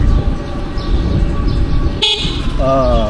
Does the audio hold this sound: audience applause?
no